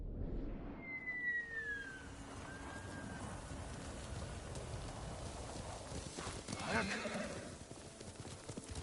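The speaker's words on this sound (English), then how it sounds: "good horse, Noble" Steady clip-clop of horse hooves plods along with a whinny early on, while a voice speaks over it, in the video game Ghost of Tsushima.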